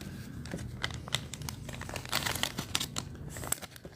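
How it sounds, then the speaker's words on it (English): Plastic packaging being unwrapped from graded trading card slabs, a steady stream of close crinkling and tearing with sharp crackles scattered throughout, no voices. "We always could unwrap some more slabs."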